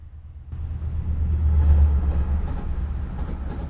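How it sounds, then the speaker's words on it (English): A train passes nearby as a deep, swelling rumble that builds from near quiet, peaks and holds, with faint clatter on top and no talk. "There's a train."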